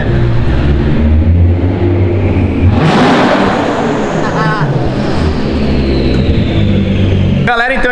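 A Nissan 370Z drift car's engine revs loudly at a shopping centre, a steady droning engine note that surges in one sharp rise midway, with people talking over it.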